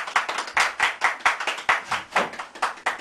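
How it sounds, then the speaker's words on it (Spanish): A small audience claps in a quick, fairly rhythmic run of close, crisp handclaps, with no talk over them. "Un aplauso, por favor."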